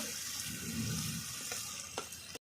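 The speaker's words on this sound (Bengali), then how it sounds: "এবার আমি মাছের তেলটা একটু ভালো করে ভেজে নিয়ে" Steady sizzling and crackling of fish fat rendering in hot oil in a pan, with a few light clinks of a utensil near the end.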